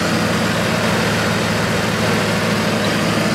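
A Chevrolet TrailBlazer 4.2 engine idles smoothly and steadily at close range, a dense continuous hum with no knocks or rattles, alone without speech.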